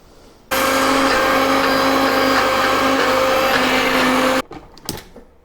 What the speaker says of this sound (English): So let me put all this into a blender now.